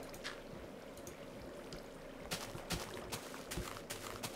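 Water being placed and flowing in the Minecraft video game, a faint trickling stream with a few soft splashy bursts partway through, with no talking.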